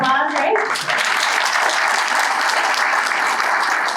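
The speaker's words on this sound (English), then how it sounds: "we give Mark a round of applause, right?" Loud, dense audience applause fills a room at a Heart of Wisconsin Chamber of Commerce awards ceremony, steady and sustained throughout with no break, following a brief voice at the start.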